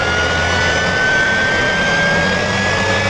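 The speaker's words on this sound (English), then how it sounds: "Think about the iconic high-pitched whine of a bladed turbojet when the rotors are spinning at high RPM." A bladed turbojet engine spinning at high RPM runs with a steady, loud roar and a thin, sustained high-pitched whine that holds its pitch throughout.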